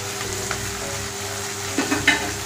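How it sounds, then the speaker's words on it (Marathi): Veg kurma masala of onion, tomato, coriander powder, cashew paste and coriander leaves sautés in a pan over low heat, a steady close sizzle with a few stirring scrapes near the end. "आपल्याला हे बारीक गॅस करून चांगलं परतून घ्यायचंय."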